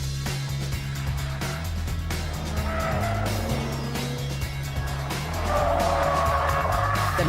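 A Mazda car driven fast on a timed track lap, engine revving hard and shifting through gears while tires squeal through the corners, loud and close throughout.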